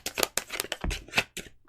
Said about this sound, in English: let me finish shuffling and then I can.